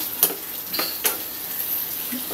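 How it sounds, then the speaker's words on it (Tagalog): Pork slices frying with sweet potato in a pan, seasoned with salt and pepper: a steady close sizzle with a few sharp clinks and scrapes of a utensil against the pan. "Tapos ilalagay naman natin to sa ibabaw yung ating pork. Fry lang yan."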